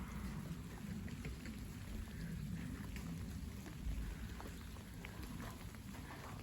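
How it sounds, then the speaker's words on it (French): Steady rain with heavy, wet melting snowflakes falling outdoors in a winter storm, a continuous close hiss and patter with no talk. "Quelques gros flocons fondus qui descendent dans la pluie."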